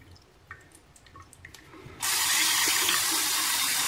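Water from a tap gushes suddenly, loud and steady, into a Braun shaver cleaning cartridge to rinse out old fluid, after a couple of seconds of soft handling clicks.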